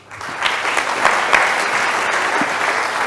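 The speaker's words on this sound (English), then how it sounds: "one more round of applause, please, for David" A conference audience at an annual forum claps for a keynote speaker, dense even applause swelling in within the first half second and holding steady throughout, close and loud.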